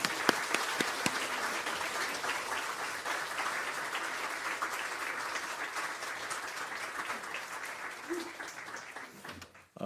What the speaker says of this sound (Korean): 박수 한 번 더 치겠습니다.